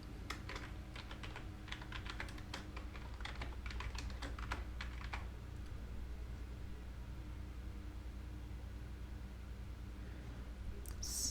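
Computer keyboard keys clatter in a quick burst of typing for a plugin search, a run of crisp close taps over a low steady hum, then the typing stops and only the hum remains.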